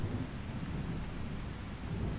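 Rain and thunder in the video game Skyrim, a steady dense hiss of rainfall with a low rumbling underneath that holds evenly at a soft level, with no voices.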